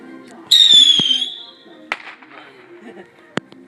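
Fireworks thrown and set off in a backyard, a loud whistling burst sweeping down in pitch followed by a couple of sharp pops and cracks, with people's voices and movement around.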